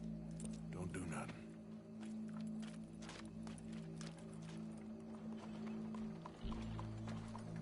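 Horse hooves clip-clop on hard ground at a walking pace in the video game Red Dead Redemption 2, with voices talking over them and a low background hum.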